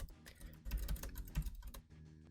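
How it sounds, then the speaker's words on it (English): Rapid, rattling clatter of keys and mouse buttons being mashed during a race in the game Fetch Quest, a dense burst of clicks and taps played close and alone. "you have to mash the right and left mouse buttons"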